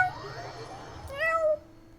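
A person's voice imitates a cat's meow, a single rising-and-falling drawn-out call that follows brief low chatter and stands out clearly at close range.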